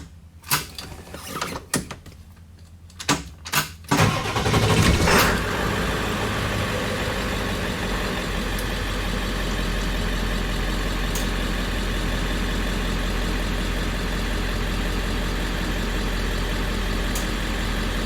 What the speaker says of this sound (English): So I'm gonna start the car while we are looking at these graphs.